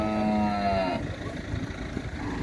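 A dairy cow at a cattle fair in Ibiapina, Ceará, lets out a loud, close moo lasting about a second, followed by murmuring crowd noise and background clatter.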